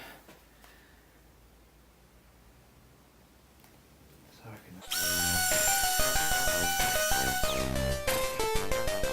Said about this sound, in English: Start off small and we'll get bigger if we need to with the old drill bit.